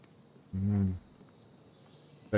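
A goat in the video game The Infected gives a single short, clear bleat over a quiet game background with a faint insect-like hum.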